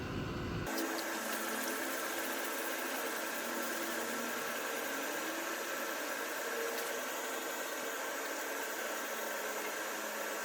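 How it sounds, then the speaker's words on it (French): Car bodywork on a Mini BMW is wet-sanded with water, producing a constant close wash of watery hiss and rushing that runs without a break, with no voices. "je préfère de loin faire un ponçage à l'eau"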